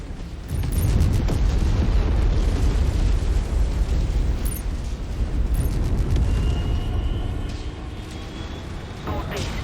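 Power plant blown up in a video game, a sustained loud, roaring explosion with dense rumbling debris that slowly tapers, with a voice speaking over it.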